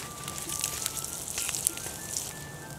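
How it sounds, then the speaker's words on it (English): A smoky outdoor bonfire crackles and pops steadily, with sharp snaps standing out over a dense hiss, fairly close and with no talking. "Our smoky bonfire."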